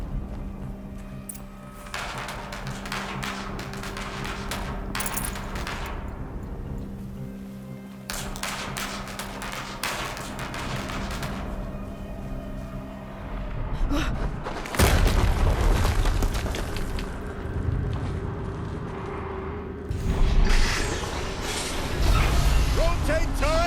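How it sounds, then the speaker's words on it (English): Heavy booms and blasts from the video game Horizon Zero Dawn Remastered, with several loud impacts mixed with rumbling machinery and a sustained roar, while a voice talks over parts of the action. "Another explosion."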